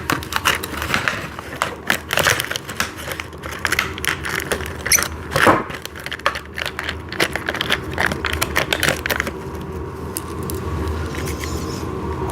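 Bolts being tightened while assembling an office chair give off rapid, close-up clicking and ratcheting taps in irregular bursts, with a steadier rattle toward the end and no talking.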